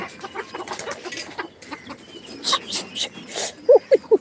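A silver chicken gives a few sharp, nearby clucks in quick succession, rising out of a quieter, scratchy background.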